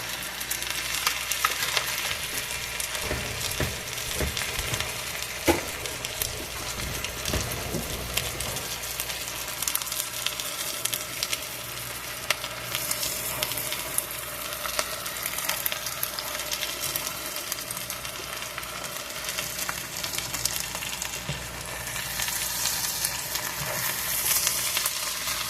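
Butter sizzling steadily in an electric skillet set to about 400 degrees, a continuous crackling hiss that stays even throughout, with a few brief clatters early on and no voices.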